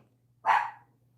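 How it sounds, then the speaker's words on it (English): A single dog bark, loud and close, one short sharp yelp standing alone against a quiet room. "Stop barking."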